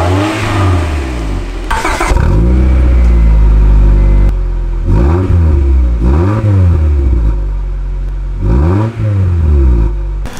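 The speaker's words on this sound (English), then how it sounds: "I'm gonna show you how it sounds like with the stock exhaust on" A Honda Prelude engine with its stock exhaust revs repeatedly from idle, loud and close, each blip rising and falling in pitch between steady idling stretches.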